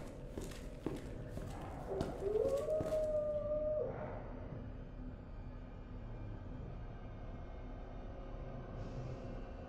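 A single dog howl rises and wavers in the dark of Resident Evil 2, heard beneath game ambience and thudding footsteps, fairly distant and fading into a low hum.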